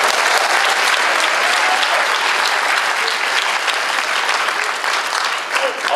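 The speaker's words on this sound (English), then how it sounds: "Gabby, if you can give them a round of applause." A crowd at a senior honors night claps steadily and continuously, dense and even throughout, tapering slightly toward the end.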